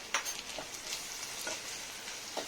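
Turmeric, red chilli powder and onion-garlic masala frying in oil for matki usal give a faint, steady sizzle with light spoon scrapes and small taps close by.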